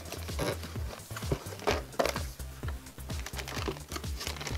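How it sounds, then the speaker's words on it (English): Cardboard packaging of a Pop the Pig family game box being handled and torn open, with crinkling plastic, thumps and rustles in a busy, close run of handling noises. "Alright, let's open this box up."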